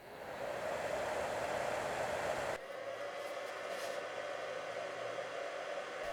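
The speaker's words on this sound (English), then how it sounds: "at some point the rear fan will kick in to help vacate the excess heat." The rear cooling fan of a Spektrum Smart G2 charger whirs with a steady airy hiss, loud at first, then dropping abruptly to a quieter constant hum partway through, with no talking.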